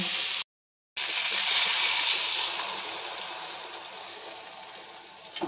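Water poured into a potato curry cooking in a home kitchen, a steady hissing, rushing pour that briefly cuts out, then gradually fades with a few clatters at the end.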